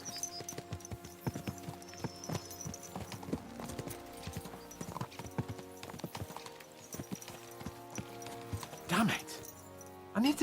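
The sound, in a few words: horses galloping, from video game Kingdom Come: Deliverance II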